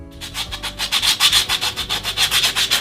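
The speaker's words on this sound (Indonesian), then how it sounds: "kemudian kita amplas dengan amplas kasar" A cut piece of coconut shell is rubbed on coarse sandpaper in steady back-and-forth strokes, a loud, close, rhythmic rasping that repeats about six times per second with no talking.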